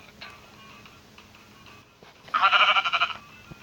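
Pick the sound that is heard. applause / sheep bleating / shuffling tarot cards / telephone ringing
sheep bleating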